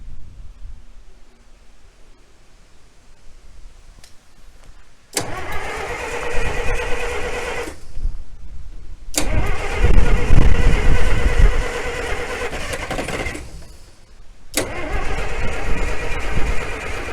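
International Harvester UD-16 diesel power unit engine cranking and firing up in three loud bursts, each start catching and running briefly before cutting out, with a near, rough mechanical roar.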